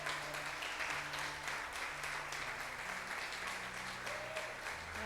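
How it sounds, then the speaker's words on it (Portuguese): A church congregation applauds in honor of the Lord, a steady, fairly soft wash of clapping that holds evenly throughout with no talking over it. "Aplauda esse Senhor."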